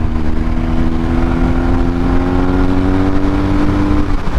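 A flashed-ECU 2021 BMW R 1250 GS boxer engine drones loudly and steadily up close while downshifting, its pitch shifting slightly as revs settle, with wind rumble underneath and no voices.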